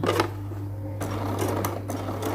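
A sewing machine runs close by in short stitching bursts while binding a lace sleeve, with a quiet steady hum beneath the rapid mechanical clatter.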